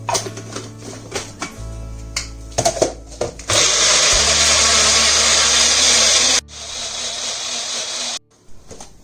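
Blender whizzing beetroot with a pinch of salt and sugar into a puree: after some kitchen knocks and clatter, the motor roars loudly and steadily for about three seconds, cuts out, then a few more handling clunks.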